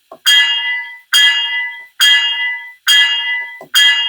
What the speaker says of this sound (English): We'll just do a little bit of realistic shunting with the bell running